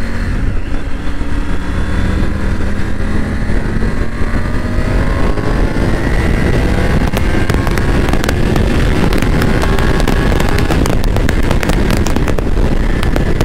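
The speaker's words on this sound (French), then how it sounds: "Là j'ai pris le moteur, il allonge vraiment, je pensais pas que ça monterait aussi haut" A 2022 Triumph Tiger 900 GT Pro motorcycle engine revving up hard on a twisty country road, its pitch climbing through long pulls, loud and close, with sharp crackles late on and no talking.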